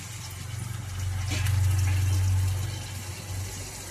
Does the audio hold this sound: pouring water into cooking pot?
yes